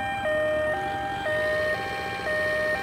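Ambulance siren from the Ambulance Simulator video game, a loud close two-tone wail alternating steadily between high and low pitches, repeating about once per second without pause.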